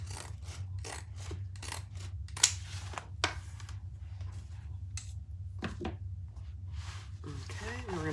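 Scissors trim the frayed edge of waterproof canvas in a series of short, crisp snips with pauses between them, close by over a low steady background hum.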